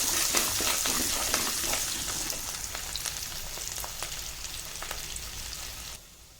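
Garlic sautés in a pan with a close crackling sizzle and occasional stirring clicks, fading to quiet near the end.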